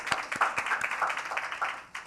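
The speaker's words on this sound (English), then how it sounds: "I want to give you a round of applause for that" Scattered audience applause at a business-event fireside chat, a modest round of claps with a quieter stretch before a final sharp clap.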